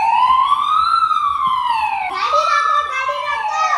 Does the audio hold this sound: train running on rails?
no